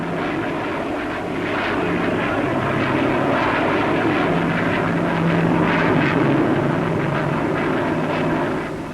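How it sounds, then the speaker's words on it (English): A de Havilland DH-110 two-seater jet aeroplane flies at Farnborough, a loud, continuous engine roar that swells and holds steady, then eases slightly at the end. "it's worth noting the maneuverability of this two-seater aeroplane, which has beaten the sound barrier with no trouble at all on numerous occasions"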